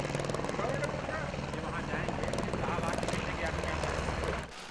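Helicopters carrying pilgrims fly past, producing a loud, steady rotor thrum with rapid chopping pulses that holds for several seconds, then drops off abruptly near the end.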